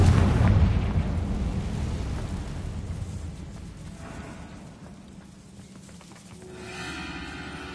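A Confringo fire spell blasts in Hogwarts Legacy inside a long-abandoned hall, a loud deep boom opening the moment and rumbling down into a lingering low roar before a fainter second swell.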